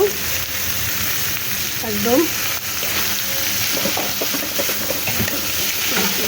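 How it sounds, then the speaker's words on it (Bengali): Hechi greens with onion and garlic frying in a pan, a loud continuous sizzle and hiss with a few scraping stirs, while someone speaks briefly over it. "শাকটা দিয়ে আমি এখন আবার কিছুক্ষণ ভাজা করে নেব"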